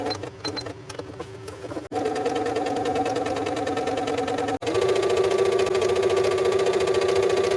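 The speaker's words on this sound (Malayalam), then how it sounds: "ഇനി നമുക്ക് ഇപ്പം വരച്ച ആ ഒരു റെക്റ്റാങ്കിൾ ഉണ്ടല്ലോ അതിന് ചുറ്റും ഇങ്ങനെ സ്റ്റിച്ച് ചെയ്ത് കൊടുക്കാം" A sewing machine stitches around a drawn rectangle on fabric for a double-pocket zipper purse, humming in continuous close runs broken by two brief stops.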